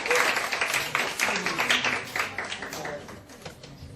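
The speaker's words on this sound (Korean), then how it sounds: "우리 축하의 박수 한번 드리겠습니다" A church congregation claps in celebration, a fairly close round of dense applause that thins out and fades toward the end.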